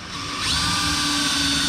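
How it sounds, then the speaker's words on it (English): A cordless power drill with a very small bit boring holes in cedar for a mini chest, a steady high-pitched whine that spins up in the first half second and then holds loud and close, with no talking. "Gotta be careful with these bits. They're so small that you could break them very easily if you are drilling"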